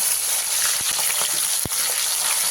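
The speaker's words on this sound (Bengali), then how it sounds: "তেলের মধ্যে মাছগুলো দিয়ে দিচ্ছি" Small river fish sizzle loudly in hot mustard oil in a pan, a steady close frying hiss with a few sharp pops and spatters and no talking.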